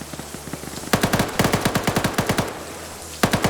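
Rapid bursts of gunfire crack close and loud in a video game match, firing in quick rhythmic volleys with short pauses, over a steady hiss of rain.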